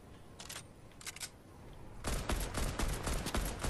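Rapid gunfire in the video game Fortnite: a few short, separated bursts, then a loud, dense run of overlapping shots that continues to the end, with no talking.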